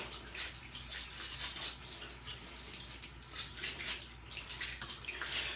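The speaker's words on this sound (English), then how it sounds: "Going to give this a quick rinse." Eheim canister filter parts being rinsed under running water, a fluctuating splashing wash with irregular bursts, fairly faint and with no talking.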